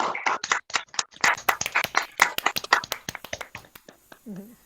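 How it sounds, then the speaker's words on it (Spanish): Scattered, uneven clapping from a small audience of an online translators' panel, sharp separate claps close to the microphone that thin out toward the end, with a brief voice at the close. "Déjalos aplaudir, por favor."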